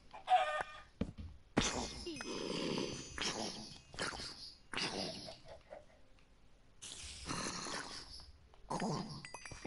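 Chicken clucking and squawking from a PS4 video game, in repeated bursts of bird calls alternating with short quiet gaps, fairly loud and up close with no talking.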